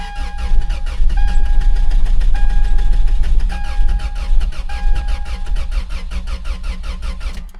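A 2000 Toyota Tacoma engine cranks, starts and runs roughly with a misfire, loud and close, its uneven idle pulsing throughout with a rhythmic ticking over the low rumble.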